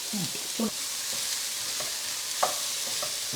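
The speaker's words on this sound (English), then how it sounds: "So a nice hot pan and 2 to 3 tablespoons of, I'm just using some olive oil. Just going to kind of saute it." Vegetables for a vegan spring roll filling sizzle in olive oil in a hot pan, a steady bright hiss broken by a few soft stirring knocks and scrapes.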